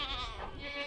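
Goats bleat steadily from a barn with its doors and vents shut, a wavering, continuous bleat at moderate loudness with no talking over it.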